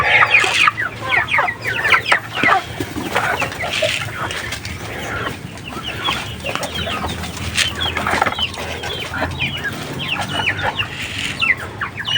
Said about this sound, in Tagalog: kadalasan mga ganitong oras nangingitlog yung ating Rhode Island Red